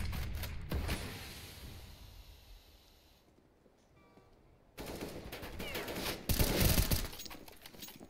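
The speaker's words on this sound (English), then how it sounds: "Gundy opening up in quick succession with DMK onto Hirnloser Affe" Counter-Strike gunfire on the Train map during a tournament semifinal, with rapid bursts of automatic shots at the start and again in a dense later stretch, a quieter lull between them.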